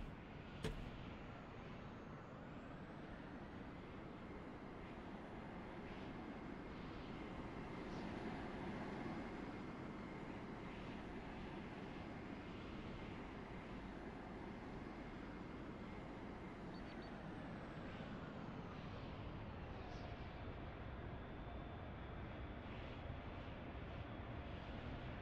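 Albatross aircraft in the video game Carrier Command 2 setting down on a carrier deck: a steady, loud engine roar and whine that holds for about twenty seconds, then eases slightly as the craft settles, with no talk.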